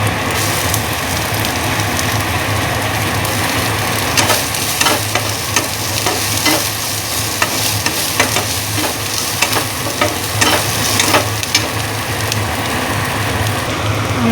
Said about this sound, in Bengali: আমাদের পেঁয়াজ ভাজা হয়ে গেছে